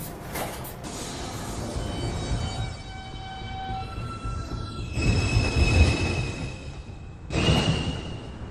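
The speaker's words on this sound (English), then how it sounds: "This is a Manhattan-bound 2 train." A Manhattan-bound NYC subway 2 train rolls through an elevated station with a continuous rumble, high squealing wheel tones that rise and fall, and a louder surge of rolling noise toward the end.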